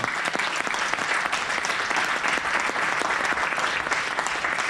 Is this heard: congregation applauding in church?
yes